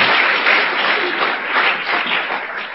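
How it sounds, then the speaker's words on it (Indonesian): Audience applause for Tiansi and One Vision at a Tiens networking event, a dense, steady wash of clapping from a sizeable crowd that holds at an even level throughout with no voices on top. "Tepuk tangan untuk Tiansi dan One Vision."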